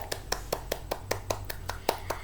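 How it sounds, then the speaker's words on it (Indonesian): A classroom of children claps in unison, about ten sharp, evenly spaced claps in a steady rhythm, close and moderately loud over a low background hum. "tepuk tangan buat peringkat 1 sampai 5"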